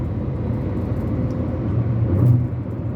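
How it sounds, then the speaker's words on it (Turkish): Inside a Hyundai i20 Sense on the move, tire and road noise fills the cabin as a dense, steady low rumble, loud and continuous, swelling slightly toward the end, with no talking. "lastik sesi fazla. Eğer bir de mıcırlı bir yolda gidiyorsanız tüm ses arabanın içerisinde yankılanıyor."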